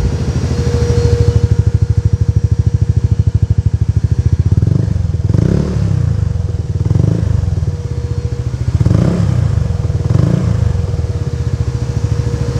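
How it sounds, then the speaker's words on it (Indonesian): A motorcycle with an aftermarket Aero exhaust idles with a deep, throaty rumble, then revs up several times in short blips, loud and close. "kita dengar dulu ya bunyi knalpot aero-nya"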